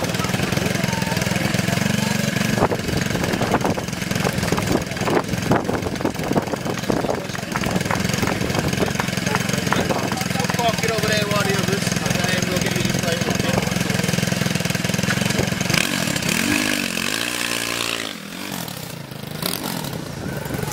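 At a custom motorcycle show, a bike with a 140 motor idles and revs continuously, a loud, steady engine rumble with a brief dip near the end.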